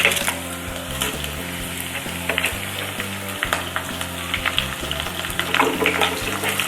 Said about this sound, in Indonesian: baru cemplungkan bawang putih, jahe, dan bahan cemplung lainnya